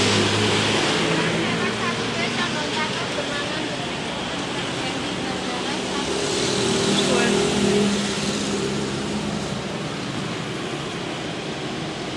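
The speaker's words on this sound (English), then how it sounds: "There is the bus" A Trans Jogja city bus pulls up to a stop in Jogja, its engine a steady loud rumble that swells briefly as it arrives, with broadband traffic and wind noise throughout.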